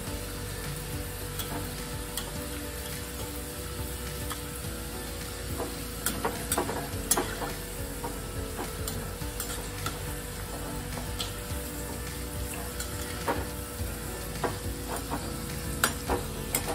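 Modaks frying in hot oil give a steady, fairly quiet sizzle with soft crackles and occasional louder pops throughout, close by and without speech.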